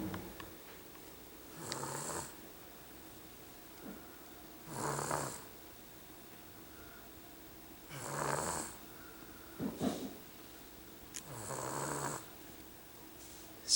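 A sleeping baby boy snores in a bouncy seat, with four or five soft, rhythmic snores a few seconds apart and quiet breathing between them, close by and alone.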